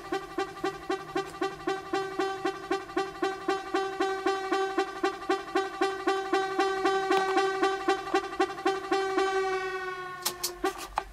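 A synth lead melody in an electronic music production, bright buzzy sustained tones pulsing in a steady rhythm for about ten seconds before a sharp change near the end, loud and alone.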